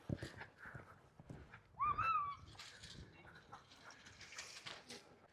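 A horse moving through a riding exercise, with soft hoof steps and one loud whinny in the middle. Faint voices and other background noise sit around it.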